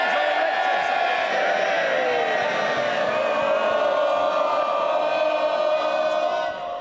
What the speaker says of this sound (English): the biggest day in the House, and you want to carry on cheering?